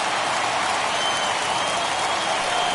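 A home crowd cheers and applauds in the video game MLB The Show 21 as the 90s New York Yankees host the Cleveland Indians, a dense, steady roar of the stadium crowd.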